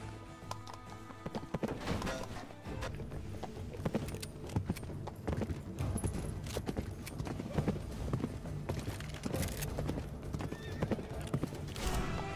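Rapid hoofbeats of galloping horses in a video game clatter steadily throughout, with horses whinnying and jangling tack, loud and close, with occasional voices mixed in.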